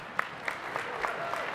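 Convention audience of a labour federation clapping, a soft scattered patter of hands with a few sharper individual claps standing out over low room noise.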